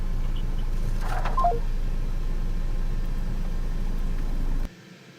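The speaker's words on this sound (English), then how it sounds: "Mike Kohan hung up the phone before Grace could ask him any more question" A phone call ending abruptly: steady telephone-line hiss with a couple of brief tones near the middle, then a sudden cut to near silence as the receiver is hung up.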